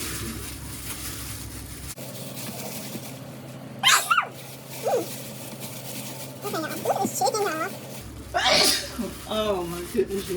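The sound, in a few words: sneezing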